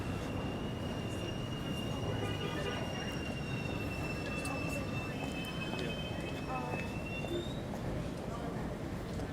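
A New York City subway train in Midtown Manhattan rumbling steadily with a sustained high wheel squeal on the rails, loud and close throughout, with faint background voices.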